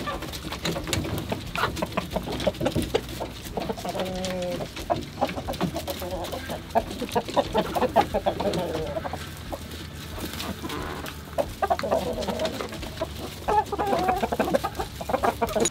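Chickens in a coop clucking and squawking nearby, a busy overlapping mix of short clucks and longer calls, with occasional rustling and scratching under the birds' chatter throughout.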